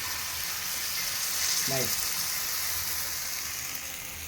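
Ragi flour paniyaram batter frying in a pan, a steady close hiss of sizzling oil with a brief voice in the middle.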